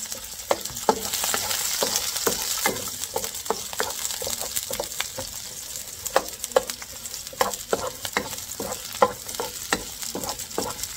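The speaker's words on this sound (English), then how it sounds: "All right, I think our wok is hot enough. So we're going to be sautéing our garlic now." Garlic sautés in a hot wok, giving a steady close-up sizzle broken by frequent sharp clicks and taps of stirring throughout.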